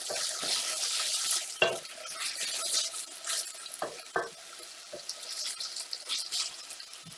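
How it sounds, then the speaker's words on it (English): A spoon scrapes and knocks against a pot while thick ugali is stirred, over a constant hissing bubble of boiling. "Keep on stirring."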